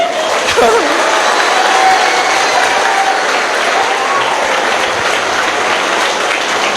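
Loud, sustained audience applause fills a Tamil stage event, a dense, steady roar of clapping throughout with a few faint vocal whoops and voices mixed in.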